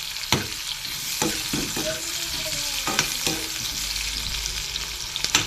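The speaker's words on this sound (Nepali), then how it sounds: "यसमा चाहिँ अब म प्याज फ्राई गर्दैछु" Onions fry in a black wok with a constant bright sizzle, broken by a few sharp scrapes and clacks of a stirring utensil, close and with no talk.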